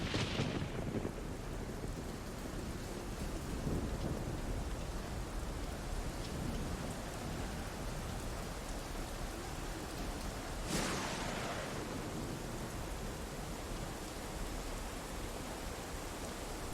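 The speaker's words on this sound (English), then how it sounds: "You can hear the distant rumbles of thunder coming from what must be a few kilometres away." Steady rain pours over a river valley while thunder from a storm a few kilometres away rumbles low underneath. A sharper crack rolls through near the middle, and no one speaks.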